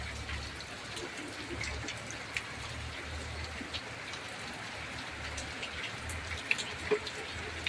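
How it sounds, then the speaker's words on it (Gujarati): Light rain falls steadily and softly, with scattered drips and patters standing out against a quiet, even background. "ધીમે ધીમે જો અત્યારે આવો વરસાદ આવે છે"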